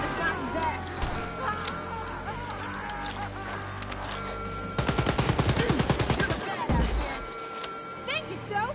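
Gunfire from a gun in Wolfenstein: Youngblood, with scattered shots amid game noise, then a dense rapid burst of automatic fire for a couple of seconds before tapering into a few more shots.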